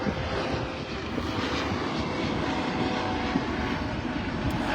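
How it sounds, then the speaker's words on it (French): A large helicopter passes overhead with a steady, loud engine and rotor roar that fills the whole stretch, broad and continuous with a low rumbling throb and no talking. "Ouh, il y a un gros hélicoptère là."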